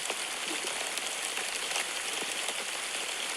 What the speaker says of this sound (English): The rain was beginning to subside.